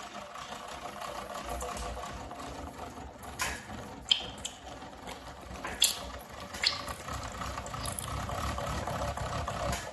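An all-aluminum 511 FE engine being hand-cranked to build oil pressure, giving a continuous mechanical whirr and ratcheting with a few sharper clicks and knocks, close and steady.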